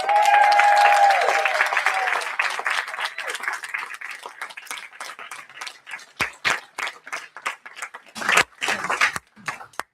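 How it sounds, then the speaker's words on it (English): An awards-ceremony audience applauds the nominees, dense clapping at first that thins out into scattered, uneven claps and then a few final sharp bursts. "I was going to make a huge noise, a huge round of applause for that."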